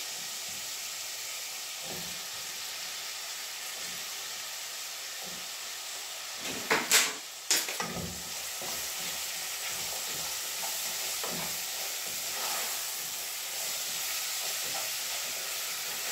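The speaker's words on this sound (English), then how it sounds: "so now we're popping our apples. And get them all nicely coated" Apples stirred into melted caramel in a saucepan make a continuous steamy hiss and bubbling sizzle, with a burst of louder scraping and clattering from stirring in the middle.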